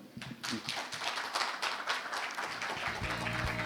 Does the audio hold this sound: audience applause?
yes